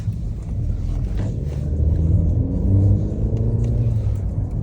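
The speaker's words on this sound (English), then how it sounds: "when you hear that buzzing engine sound, it almost sounds like a Honda" A 2024 Mercedes E350 Pinnacle's engine revs as a steady low rumble with rising harmonic tones, heard from inside the cabin over about five seconds, with a slight buzzing edge and no speech.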